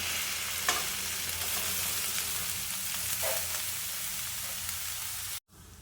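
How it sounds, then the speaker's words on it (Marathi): Grated carrots fry and sizzle in ghee in a pan over a slow flame for gajar halwa, with a steady broadband hiss and a few brief stirring scrapes. The hiss stops abruptly near the end. "आता मी यामध्ये किसलेलं गाजर टाकते."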